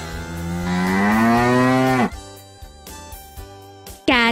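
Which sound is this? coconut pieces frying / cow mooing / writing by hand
cow mooing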